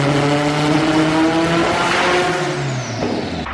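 A turbocharged Honda Integra GSR engine on a dyno roars steadily near and loud, its pitch slowly sliding down before dropping off at the end. No distinct spits or pops stand out.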